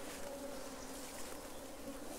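Honeybee swarm in an apiary gives a steady, dense buzzing hum throughout, moderately faint and continuous with no talking.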